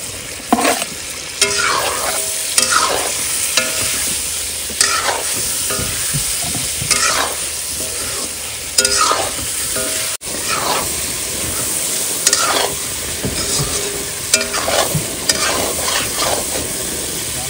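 Eggs and potatoes are stirred into spices frying in a pan, giving a steady loud sizzle broken by repeated scraping strokes of the spoon against the pan, with no talking.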